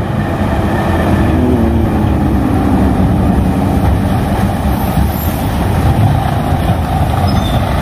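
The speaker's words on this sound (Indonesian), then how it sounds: "Dengan kecepatan yang rendah, kendaraan truk seperti ini dengan suara yang begitu tinggi teman-teman." A heavy truck creeps slowly past the huge tunnel on the Jakarta–Bandung high-speed rail construction site, giving a loud, steady engine rumble and roar that runs unbroken throughout with no talking.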